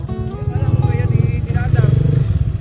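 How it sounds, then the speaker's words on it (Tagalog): A motorcycle engine idles with a steady, pulsing low rumble close by, while someone talks over it throughout. "Umaandar naman talaga yung motor natin."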